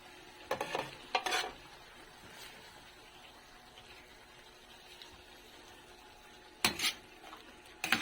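A utensil stirs and scrapes sautéed vegetables with ground meat in a pan, with a faint sizzle underneath and a few clattering bursts of metal against the pan, close by.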